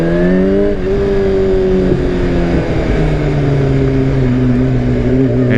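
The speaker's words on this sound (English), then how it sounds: "Don't really hold back with the RPMs anymore." Yamaha R6 motorcycle engine, loud and close, holding high revs in a sustained buzzing scream with slight dips and shifts in pitch, steady throughout with no talk.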